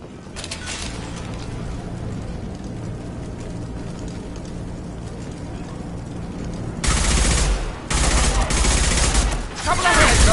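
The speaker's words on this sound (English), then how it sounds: "Blue Suns and Vorcha shooting anything that moves." Bursts of automatic gunfire from a sci-fi shooter game in which mercenaries and alien scavengers shoot at anything that moves, a long dense fusillade that swells loudly in the second half, with speech mixed in.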